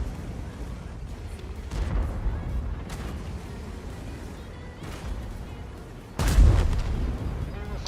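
Object 452K tank cannon shots in World of Tanks boom at intervals amid a low rumble, with a louder, heavier blast near the end; game-like artillery fire without speech.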